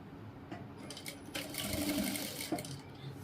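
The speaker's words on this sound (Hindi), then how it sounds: "यहाँ तक ये सिलाई मारेंगे" A sewing machine stitches a trouser seam in a short, whirring run of rapid needle strokes, close and fairly clear, with small handling noises around it.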